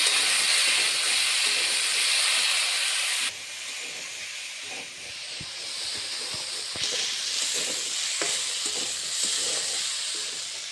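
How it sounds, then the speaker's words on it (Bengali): Potato pieces fry in hot oil with turmeric and salt, giving a loud, continuous sizzle with scattered crackles that eases slightly after a few seconds, with no voices. "আলুটা এখন সামান্য হলুদ গুঁড়ো সামান্য মতো নুন দিয়ে ভেজে নেব ভালো করে"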